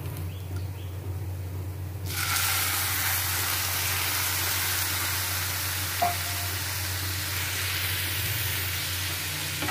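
Milk poured over roasted poppy seeds in a pan for halwa bursts into a loud, sustained sizzle that hisses steadily with an occasional spoon knock, under a low background hum.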